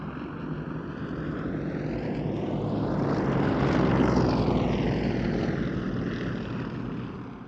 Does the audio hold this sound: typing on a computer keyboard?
no